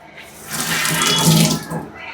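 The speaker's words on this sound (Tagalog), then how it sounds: "Hugasan natin." Fruit being washed under a running tap, a steady close splash of water over a sink lasting about two seconds, with no talk.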